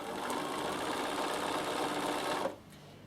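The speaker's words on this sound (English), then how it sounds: "you just sew down. Makes all these wonderful sounds" Bernina sewing machine stitching down appliqué on a chalkboard cushion, a fast steady mechanical whirr running continuously and then stopping abruptly near the end, leaving a quiet room.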